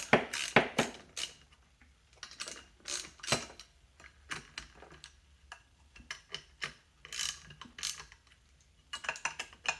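Bolts being snugged down around the final drive cover of a BMW R60/2 motorcycle, heard as a long series of sharp, close ratchet-like clicks in quick bursts with brief pauses, no talking.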